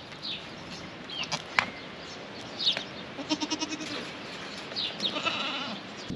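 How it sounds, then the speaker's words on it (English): A Mini LaMancha dairy goat in labor makes soft, low nickering sounds in short pulsing bursts, close by, with a few higher bleats from other goats and light background noise in the barn. "she's making these cute little low nickering sounds"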